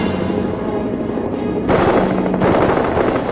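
A World War I fighter plane's machine gun fires in loud rapid continuous bursts, dense rattling over a droning engine, growing harsher partway through.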